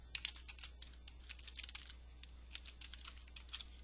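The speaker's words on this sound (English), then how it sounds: "I'm just typing that in so you'll see what it'll look like." Fast typing on a computer keyboard while entering job details in accounting software, bursts of light clicking keystrokes with short pauses, close and fairly quiet over a low steady hum.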